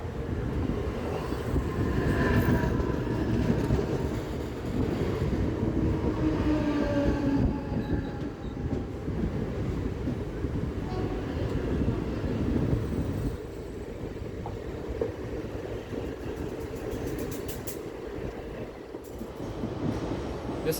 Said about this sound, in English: A Mumbai CSMT bound fast service is entering the station here.